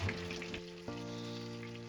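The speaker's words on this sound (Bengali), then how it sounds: "পটলের যে সাইডে আমি পুরটা ভরেছি সেটাই আগে তেলের মধ্যে দেব" Stuffed pointed gourd fries in oil over a medium flame, stuffed side down, giving a quiet, steady sizzle with a low, even hum beneath it.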